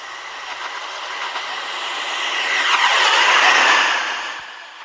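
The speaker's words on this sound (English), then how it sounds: "Judging by the sound, we have a express class 143 Pacer." A Class 143 Pacer express train passing in a railway video game, a steady rolling rumble with clickety-clack that swells louder toward the middle then fades as it goes by, no talking.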